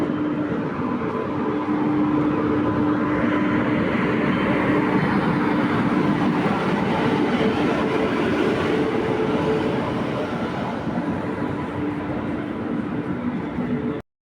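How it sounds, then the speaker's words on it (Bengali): A passenger train pulls into platform 4 at Adra railway station in India, its steady loud rumble and wheel noise filling the whole stretch with a sustained mechanical hum and no voices. "ফাইনালি আমাদের ট্রেন এসে পৌঁছালো আদ্রা স্টেশনের 4 নম্বর প্ল্যাটফর্মে"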